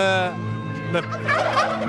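A turkey gobbles repeatedly and loudly up close on an Albanian farm, its rapid warbling calls coming in bursts over a steady background with no talk.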